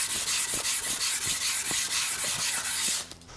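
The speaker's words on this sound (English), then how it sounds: "this hand sanding is all it takes" Pallet wood for a door jamb is sanded by hand in rapid back-and-forth strokes, a steady rhythmic scratchy rubbing close up that stops abruptly near the end, with no talk.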